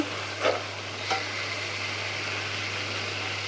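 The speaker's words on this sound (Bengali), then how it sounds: "মশলাটা ভালোভাবে কষাবো" Spice paste of ginger, garlic, garam masala, turmeric and chili powder is stir-fried in a pan, with a steady close hiss and two brief scraping strokes early on, no voices.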